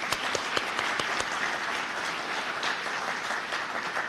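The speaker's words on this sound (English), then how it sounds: "Let's give our Foothill De Anza colleges a big round of applause." Steady audience applause at the Cupertino, California State of the City address, many hands clapping densely and evenly throughout, moderately loud with no voices standing out.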